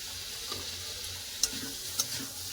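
Potato and cauliflower being stir-fried with spices in a pan, with a steady low sizzle and two brief sharp scrapes of a spatula against the pan.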